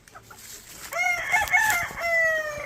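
An American game fowl rooster gives a single loud, close crow that rises and then holds, after a few quiet clucks, with no talking.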